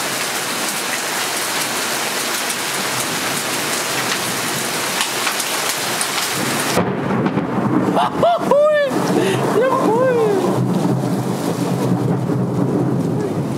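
Heavy rain hisses steadily during a motorcycle trip in Italy, then the roar drops away to quieter rain as a rumble of thunder rolls in. Voices shout and talk over the second half.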